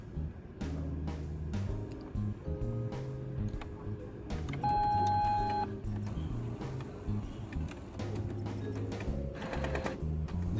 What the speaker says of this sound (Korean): 이렇게 청소 중 뜨고 펌핑이 되면서 이제 강력 청소를 진행합니다